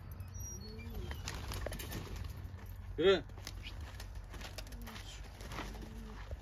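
Pigeons at a friend's loft in Malkara coo softly and give a brief burst of wing flapping midway, beneath someone talking nearby.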